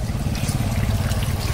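Water scooped and poured with a helmet in a fast-flowing river: a steady rushing and splashing wash of water, loud and close, brief with no talking.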